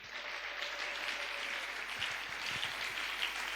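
A church congregation applauds the Lord, a faint, distant wash of steady clapping beneath a constant background hum.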